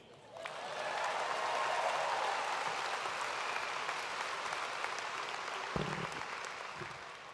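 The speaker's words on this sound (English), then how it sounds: "do you want to clap for the class of 2022 again?" A commencement crowd claps for the graduating class of 2022, broad steady applause swelling in and holding, with a few louder close claps and a thump near the end.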